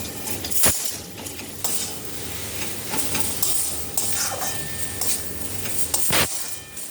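Water spinach (kalmi shak) is stirred and fried in a pan with poppy seeds and peanuts, giving a steady close sizzle with scraping spoon strokes and a few sharp metallic clinks against the pan, with no talking.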